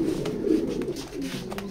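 Pigeons in a loft coo in low, throaty, repeated calls, close and fairly loud, with a few faint clicks and rustles behind them and no speech.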